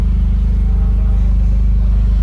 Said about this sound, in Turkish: Evet arkadaşlar test sürüşü için dışarı çıkarıyoruz aracı.